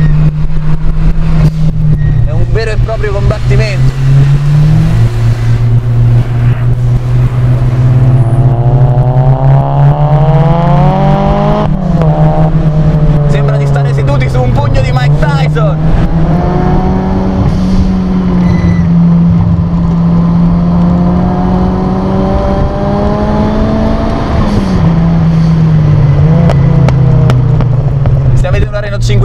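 Tuned Renault 5 GT Turbo engine revving hard while driving, a loud sustained rasping drone that rises and falls with gear changes, heard from inside the car under someone talking.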